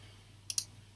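Two quick computer mouse clicks close together, crisp and near, over a faint steady hum in a quiet room.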